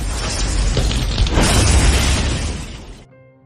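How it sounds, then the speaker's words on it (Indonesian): A bomb explosion in an Indian thriller film, heard as a loud sustained roaring blast with crackling debris that swells and then cuts off abruptly into near silence. "mereka disambut oleh ledakan bom."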